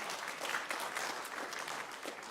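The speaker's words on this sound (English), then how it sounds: "We can clap for him." A senior awards night crowd claps steadily for a scholarship recipient, a dense, even wash of applause at moderate distance with no speech over it.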